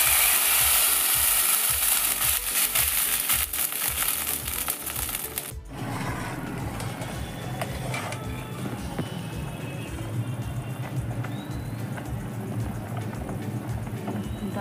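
Mung dal fries in a village kitchen pan, a loud dense sizzle and rattle at first that drops after an abrupt cut to a softer, steadier frying hiss with faint bubbling, near and continuous.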